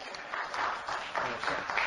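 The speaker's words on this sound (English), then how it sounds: "See all the people clapping for that shit?" A crowd audience claps in surging waves, the applause rising and falling in bursts with some voices underneath, slightly muffled as if played back from a recording.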